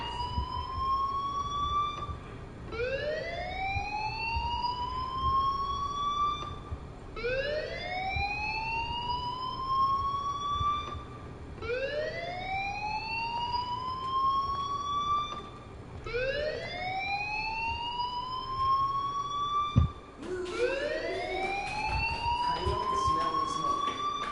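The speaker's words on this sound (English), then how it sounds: "do you hear that fire alarm?" A repeating electronic fire alarm in the video game Life is Strange sweeps upward in pitch about every 4.5 seconds, loud and steady, with a faint thump near the end.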